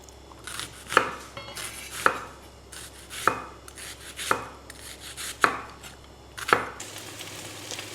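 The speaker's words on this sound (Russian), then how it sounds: "перец получается у нас вот такой соломкой нарезаем" A kitchen knife chops bell pepper into strips on a cutting board, with carrot and onion in the same vegetable prep for Armenian pumpkin khapama. The strikes are crisp and close, about one per second in a steady rhythm, with no talk.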